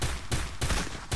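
Gunfire in the video game Free Fire: a rapid series of about five sharp, loud shots in quick bursts, evenly spaced and close.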